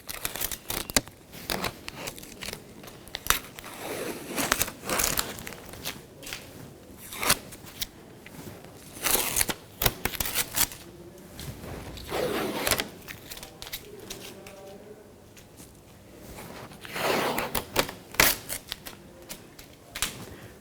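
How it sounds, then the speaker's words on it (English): Adhesive tape being peeled and pulled off the door window glass of a 2003-2007 Honda Accord during a front window regulator replacement, a run of close, crackling rips and tearing bursts in bursts across the stretch. "we can remove all of our tape"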